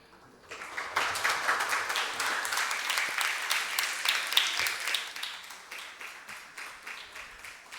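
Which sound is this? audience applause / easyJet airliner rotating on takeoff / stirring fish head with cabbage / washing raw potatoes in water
audience applause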